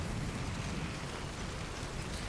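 Rain falling in the video game Death Stranding, a steady dense wash of noise with a low rumbling undertone, constant and moderately loud with no talking.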